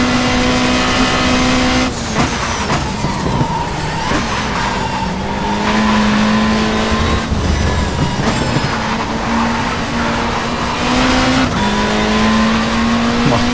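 A touring car in the racing game World Touring Car Champ 07 accelerating hard, loud continuous engine roar climbing through the revs with gear changes and tyre noise.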